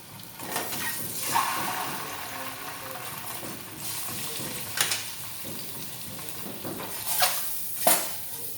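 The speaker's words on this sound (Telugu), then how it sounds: "ఫస్ట్ ఎగ్స్ ఫ్రై చేయాలండి." Eggs sizzle in a pan while being prepared for egg biryani, a steady frying hiss broken by several sharp clinks and scrapes of a utensil against the pan.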